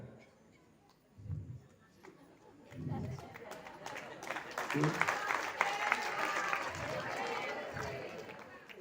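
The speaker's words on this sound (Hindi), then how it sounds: "बोलने के पहले ही ताली बजा दी आप लोगों ने।" An audience claps at a devotional gathering for a Jain monk's diksha anniversary, the applause swelling from scattered claps into a dense, sustained roll that fills the room, with a few louder low thumps underneath.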